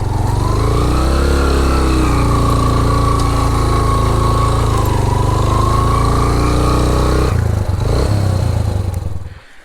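A motorcycle engine labouring on a rough jeep track in Neelum Valley, loud and continuous with rising and falling revs and clattering, then a sudden shift near the end as the engine note drops before fading.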